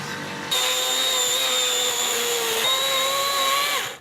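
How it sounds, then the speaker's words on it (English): A loud, high-pitched chainsaw whine kicks in and runs steadily for several seconds while cutting wood during deck building, rising in pitch before cutting off abruptly. "I'm just gonna cut it with a chainsaw instead."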